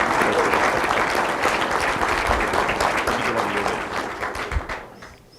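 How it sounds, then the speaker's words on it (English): Sustained applause from a lecture audience, dense steady clapping that holds for several seconds before tapering off at the end. "I want you all to give him a little clap and welcome him and thank him"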